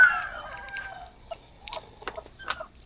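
Chickens cluck in short, separate bursts at close range, several sharp calls spaced irregularly over a quiet background.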